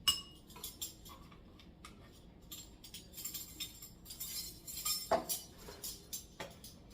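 A spoon clinking against a bowl or measuring spoon while teaspoons of milk are measured for banana bread, light scattered metallic taps, faint and close, repeating unevenly.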